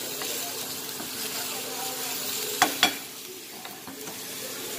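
Onion frying in a pan for lemon hake, a steady low sizzle throughout with two sharp utensil clinks near the middle, heard close.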